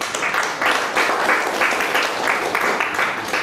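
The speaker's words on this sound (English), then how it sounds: "A round of applause for that wonderful session." Steady applause from a seated audience at a breakfast meeting of tax professionals, following a session on income tax case law; dense, continuous clapping fills the room, fairly close and even in level throughout.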